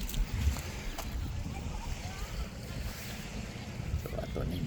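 Sea waves wash steadily onto a clean white sand beach in a beachfront area, a continuous close surf rumble mixed with wind buffeting the microphone.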